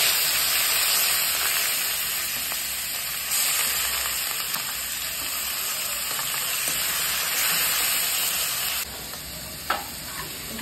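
Onion paste and ginger-garlic paste fry in a pan for chicken Mughlai, giving a steady, loud, close sizzle and hiss throughout that softens slightly near the end.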